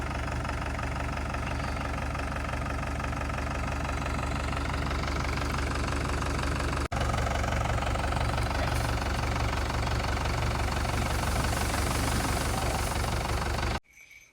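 A farm engine running loudly and steadily close by, its throttle opened to a higher, harsher rev partway through with a brief dropout, then cutting off sharply near the end, no talk.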